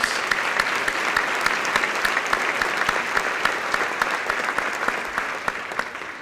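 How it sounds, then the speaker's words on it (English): Audience applause at the 2021 State of the Town mayoral address for Joe Winfield, a steady wash of many hands clapping with sharp individual claps standing out, sustained throughout without voices. "Please join me in a round of applause."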